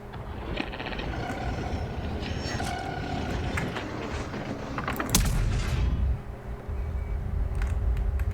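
Gunfire in a video game comes as scattered sharp shots and bursts over a busy, rumbling mechanical game soundscape, with one louder cluster of shots partway through.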